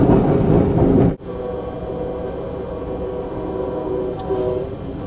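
Sunset Limited passenger train running eastbound on the rails past cypress swamp and rice fields in Louisiana, a steady low rumble with rail clatter, louder at first then dropping to a sustained rolling drone.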